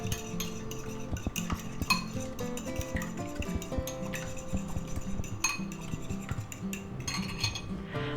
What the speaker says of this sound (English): to that we're going to add 1 ounce of regular milk. And we're going to mix that up